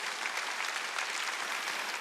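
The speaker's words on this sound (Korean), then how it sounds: "오늘부터 8월 20일까지인 걸 믿으면 박수치라" A church congregation at a Sunday service applauding together, a brief, even burst of many hands clapping at moderate volume, with no voices over it.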